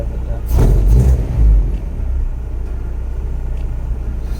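A car fitted with an H2B engine and K-series intake manifold, running rich, gives a couple of short, deep revving surges over a steady low idle rumble, close by with no talk.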